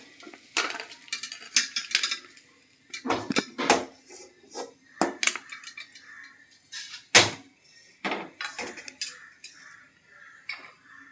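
Boiled raw banana (plantain) is drained through a strainer in a kitchen, heard as a series of sharp metallic clanks and knocks of pot and strainer with short scraping bursts between quiet gaps.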